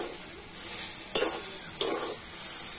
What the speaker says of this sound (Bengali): আর এবারে আমি সবকিছু কিন্তু নাড়াচাড়া করে খুব সুন্দর করে মিশিয়ে নেব